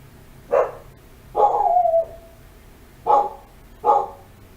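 A puppy barks in the PlayStation game Juggernaut: four short, close yaps with gaps between them, the second stretched into a whiny wail. No one speaks.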